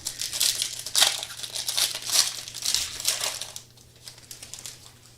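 A trading card from a 2025 Panini Certified Football hobby pack slides out of a crinkly wrapper, giving close, bright rustling and crackling in bursts for about three and a half seconds before it quiets.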